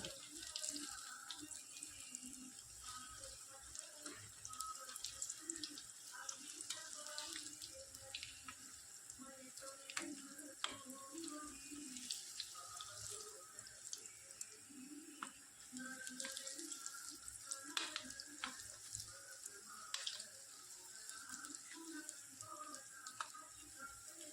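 Sweet potato bondas frying in hot oil, a steady bubbling hiss with crackling pops that runs close and continuous throughout, with no voices over it.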